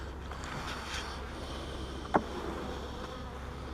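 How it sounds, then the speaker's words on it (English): Honey bees swarm around an open hive box in a steady, dense drone of buzzing, with one sharp brief knock partway through. "There are bees everywhere"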